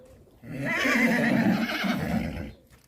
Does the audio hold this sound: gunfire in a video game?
no